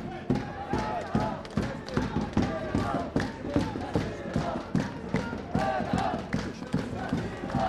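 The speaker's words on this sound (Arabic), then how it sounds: "الله جمهور الجزيره حلوين على قلتهم، لكن ما شاء الله صوتهم مرتفع، صوتهم عالي" Al-Jazeera football fans in a stadium chanting and cheering loudly in a steady rhythmic pattern with clapping beats, a dense crowd sound filling the whole stretch.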